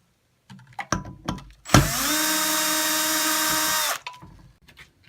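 A power screwdriver backs out retaining screws from a loudspeaker driver housing, a single loud steady whir lasting about two seconds, framed by brief clicks and handling knocks before and after.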